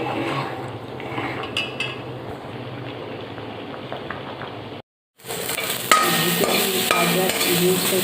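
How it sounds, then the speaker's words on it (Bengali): Gobindobhog rice being stirred into boiling milk for payesh, with soft scraping and clinks of a spoon against the pot, a short pause midway, then louder stirring and metallic knocks close by. "এবার এটার মধ্যে আমি চালগুলো দিয়ে দিই এটা এখন সিদ্ধ"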